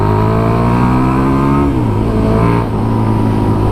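Hurricane motorcycle with its stock silencer revving hard under acceleration, a loud close droning engine whose pitch climbs then drops briefly as it shifts, continuous throughout.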